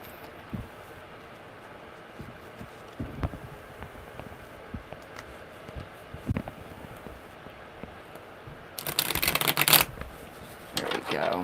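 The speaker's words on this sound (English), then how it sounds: "Okay, one more good shuffle." Tarot cards are shuffled by hand in quiet, scattered flicks and taps, ending in a louder riffling burst near the close.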